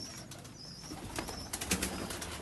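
A pigeon kept by a pigeon fancier, giving faint soft coos against a quiet background, with a few light taps and rustles.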